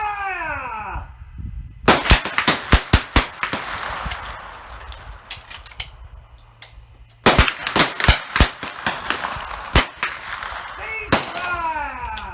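Volleys of rifle shots from .310 Martini Cadet military trainers at an Australia Day shoot, sharp loud cracks fired in irregular clusters with ringing echoes, separated by a quieter pause and shouted range commands.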